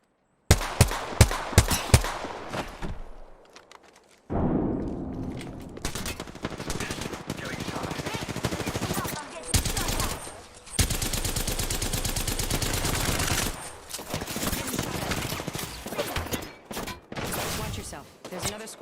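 Gunfire rattles through a video game shootout, with rapid bursts of automatic fire and single shots, a short lull, then long sustained volleys and more scattered bursts, loud and close throughout.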